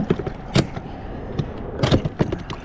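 An outboard motor is being fitted onto a Bote Aero Rover microskiff, producing scattered metallic clunks, knocks and creaks. Several sharp bursts come close together, with two louder clusters of clanking and quiet handling noise between them.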